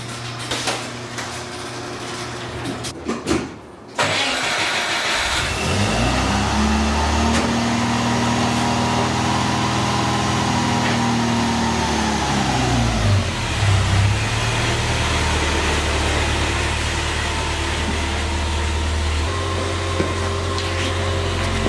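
A Porsche engine turns over after a few seconds of handling noise, then rises into a sustained mid-pitched drone with revs climbing and easing as the car drives, loud and close for the rest of the run.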